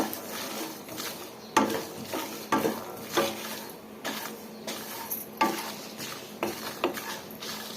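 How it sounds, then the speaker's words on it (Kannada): Sesame seeds, poppy seeds and chillies frying together in a pan, with repeated scraping stir strokes and a soft sizzle underneath, fairly quiet and close, no voices. "ಎಲ್ಲ ಸೇರಿಸಿ ಫ್ರೈ ಮಾಡ್ಕೊಳ್ಳೋಣ ನೀಟಾಗಿ."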